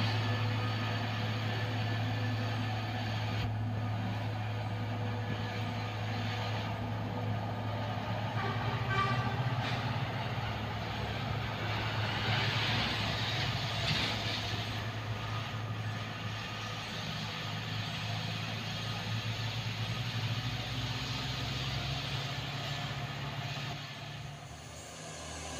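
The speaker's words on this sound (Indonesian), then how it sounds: "Seberang ada truk full diesel menuruni tanjakan Kedabuan." A diesel Isuzu truck descends the Kedabuan hill, its engine a steady low drone heard from across the road for the whole stretch, fairly distant and unbroken.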